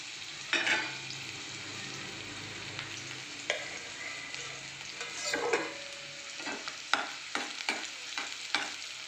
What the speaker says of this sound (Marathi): कांदा आणि भेंडी आपल्याला याच्यात छान आपल्याला परतून घ्यायचं आहे लालसर होईपर्यंत